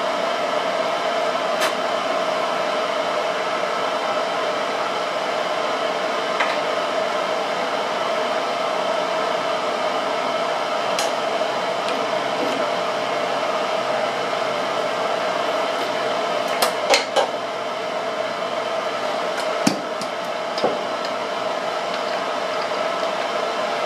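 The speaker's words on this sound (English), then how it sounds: "let's put the countersink in here" A countersink bit cuts metal on a drill press or lathe while making compression tube alignment buttons, giving a steady, loud whine with a continuous tone that runs throughout, and a few brief clicks and taps near the end.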